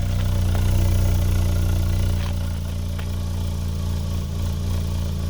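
A rental car's engine idles roughly and runs poorly beside a dark highway, a constant low rumbling drone with a faint uneven throb and no voices.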